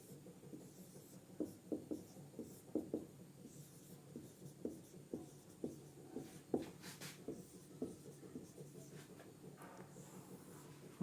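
Chalk or marker writing on a classroom board during a physics lecture, a steady run of short scratchy strokes and taps at an even rhythm, close and fairly quiet, with no talking.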